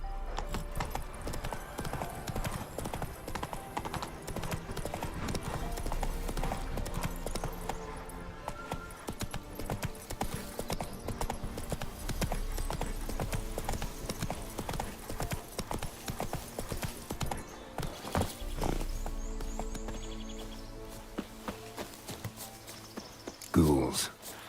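Roach the horse galloping in The Witcher 3, a fast, steady run of hoofbeats that carries nearly the whole stretch alongside a whinny, with a voice speaking over it before the pace slows near the end.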